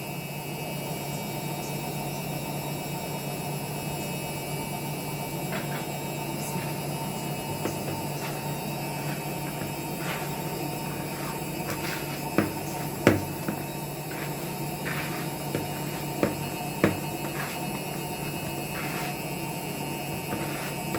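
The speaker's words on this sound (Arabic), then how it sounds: "لان ده صوت الغساله" A washing machine runs in the next room of a home kitchen, a steady broadband hum with tonal whine and a few faint knocks and clicks, continuous and moderately loud throughout with no speech.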